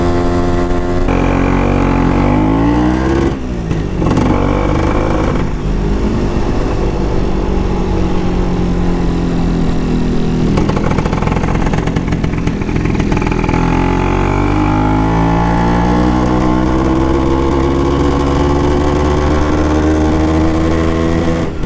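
A Vespa PX scooter fitted with a Pinasco 251 kit runs loud and close, its two-stroke engine revving up and down in smooth sweeps around mid revs, with no voices.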